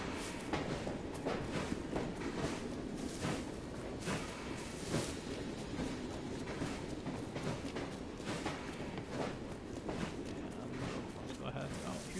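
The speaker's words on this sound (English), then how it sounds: "Another train." A train rolls past in the Victorian London setting of the video game Assassin's Creed Syndicate, a steady rumbling clatter that keeps up throughout at close range, with voices present.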